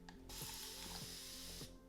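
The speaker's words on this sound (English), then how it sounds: "I also want to get a good spray bottle from Amazon, kind of the one that controls the spray. It comes out in a mist." A spray bottle trigger releases a fine water mist, a continuous soft hiss lasting about a second and a half, with faint mechanical trigger clicks over a steady low background tone.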